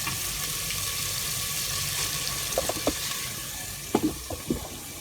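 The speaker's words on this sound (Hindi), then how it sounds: "तो अब हम लगे हैं इसके अंदर पानी ऐड करने" Water poured into a pot of simmering chickpea and potato curry, a steady broadband rush with a few soft splashes and bubbling knocks near the end, no talking.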